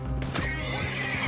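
Horse in Red Dead Redemption 2 letting out a loud close whinny over clip-clopping hooves in a short burst.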